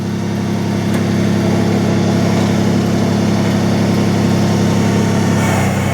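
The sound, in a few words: LS MT125 tractor engine idling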